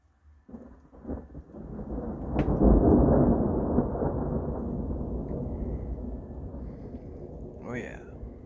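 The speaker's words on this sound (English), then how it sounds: "can I get a bolt of lightning, please?" Thunder from a brief lightning storm rolls in as a long, heavy rumble that swells and slowly fades over steady rain, with a short voice near the end.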